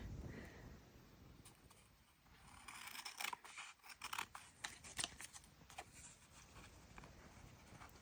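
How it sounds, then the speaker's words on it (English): Scissors snip and rasp through paper while cutting out a miniature dollhouse shopping bag, a run of close, crisp cuts with no talking. "So I am just going to cut around this."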